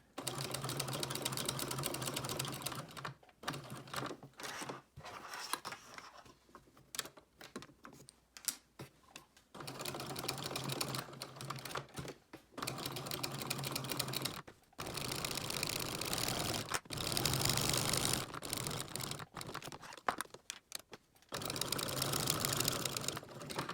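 A sewing machine stitches the hem of a fabric placemat, fast rattling runs of stitching broken by brief pauses and starts, close and fairly quiet.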